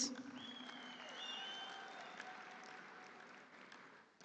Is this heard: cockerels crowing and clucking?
no